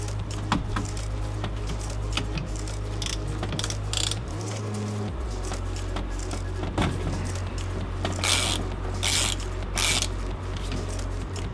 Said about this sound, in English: we just have the nut in the middle of the steering wheel here. So we're going to take that out as well